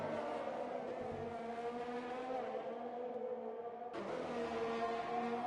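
A Formula One race car engine in the F1 2020 video game at Abu Dhabi: a steady, loud high-revving whine that drops briefly at a gear shift, then surges again.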